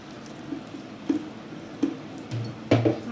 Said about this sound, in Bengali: ফুটন্ত গরম জল।